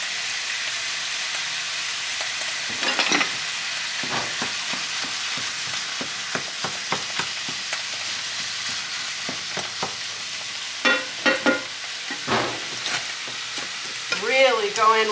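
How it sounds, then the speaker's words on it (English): Ground beef seasoned with salt and pepper fries in a pan, a loud continuous sizzle broken by repeated scraping and chopping strokes as the meat is broken up, close, with a flurry of stirring near the end and no talking. "Break up your beef as it starts cooking along."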